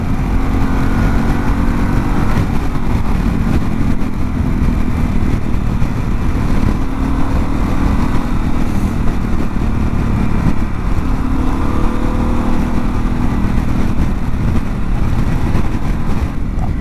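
A Harley-Davidson Pan America motorcycle ridden in sport mode, its engine droning loud and steady from up close with wind noise, the pitch rising and falling slightly as the rider accelerates along the road.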